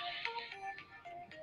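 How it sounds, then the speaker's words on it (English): A mobile phone ringtone plays a steady, repeating electronic melody at moderate volume for just over a second, with music running in the background. "Yeah, that's my phone."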